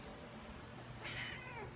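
A kitten-faced cat with a small head gives a single close meow of about half a second, mid-clip, over a quiet room background.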